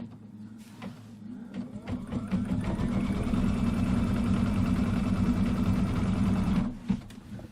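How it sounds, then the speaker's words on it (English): An embroidery machine stitching a tack-down line on a quilt block, starting up, running in a steady loud mechanical whir with a fast needle rhythm for about five seconds, then stopping with a clunk. "it's going to do another stitch line all the way back up, which is going to tack this down"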